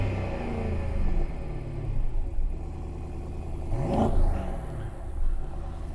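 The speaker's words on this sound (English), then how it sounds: "Give me a couple revs." A 2020 BMW M550i V8 with quad-tip exhaust gets a couple of revs, a low rumbling engine note that swells briefly around the middle before settling back to a steady idle, close by and moderately loud.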